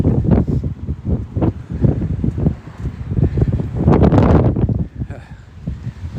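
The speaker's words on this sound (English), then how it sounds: "I'll try to get out of all this wind." Wind gusts across the microphone on a downtown street during a walk, low rumbling buffets rising and falling in bursts, with a voice talking underneath.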